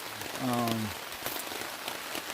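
Steady rain patters on surfaces outdoors along the Appalachian Trail during a thru-hike, a dense hiss filling the whole stretch, with a short voice-like tone near the start.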